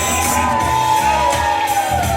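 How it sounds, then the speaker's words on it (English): At a live hip-hop show in a Chicago venue, an audience screams, whoops and cheers loudly and continuously, a dense roar of voices close around the listener. "Now somebody, anybody, everybody scream!"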